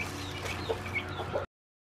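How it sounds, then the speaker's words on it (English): A baby bird found on the ground and being fed gives a few faint, short chirps over a steady low background hum, with no talking. "I just found a baby bird on the ground and I'm feeding it."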